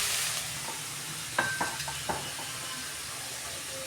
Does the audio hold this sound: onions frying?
yes